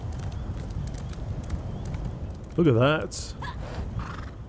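A horse in the Elder Scrolls Online video game gives a loud, close whinny midway, set against a busy game soundscape with a person talking briefly.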